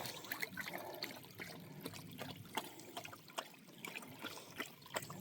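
A dog laps water from a river, making a steady trickling and splashing sound with repeated soft slurping clicks, quiet and close.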